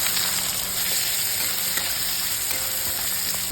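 Onion and dry spices fry in hot oil for a Bengali pui shak chorchori, giving a loud, steady, close-up sizzling hiss without pause and faint scraping underneath; nobody speaks.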